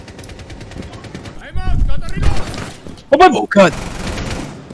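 Gunfire in the online shooter Rainbow Six Siege, coming as a couple of short bursts of shots mixed with sharp impacts, while a player exclaims loudly over them.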